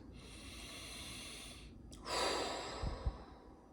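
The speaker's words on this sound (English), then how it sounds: "Take 3 deep breaths." One slow, deep breath in a relaxation exercise: a long, airy inhale followed by a brief pause, then a fuller rushing exhale. It is close, quiet and heard alone with no talking.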